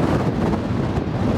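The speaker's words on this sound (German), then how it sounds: "Boah, ist das windig." Strong wind buffets a microphone outdoors near a stadium in Paris, making a steady, loud roar of low rumble that never lets up for the whole moment, with no voices over it.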